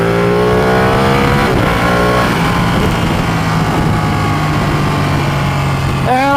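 A Ducati Panigale 1199R motorcycle with a Termignoni slip-on exhaust runs loud and close, its engine note holding a steady roar with shifting revs throughout and a sharp rising rev at the end.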